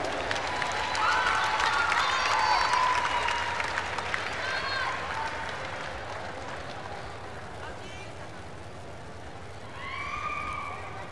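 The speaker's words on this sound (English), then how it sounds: "Let's give them a round of applause." Indoor crowd at a women's volleyball championship applauding the silver-medal team: sustained clapping and cheering, with occasional whistles, fading slightly before a fresh burst near the end.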